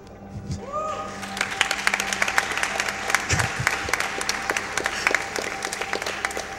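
A crowd at the SGDQ 2017 speedrun charity event breaks into steady applause during a Metroid Prime run, many hands clapping continuously at moderate volume, with a brief tone and a few voices at the start.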